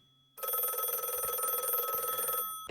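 A telephone rings in the video game My Sleeping Girlfriend, one sustained electronic bell trill starting abruptly out of near silence, lasting about two seconds and cutting off, with a brief click after.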